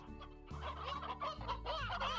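An Elder Hen in the Slime Rancher video game clucks nearby, a run of several loud, choppy bursts in quick succession over a low steady hum, with no talking.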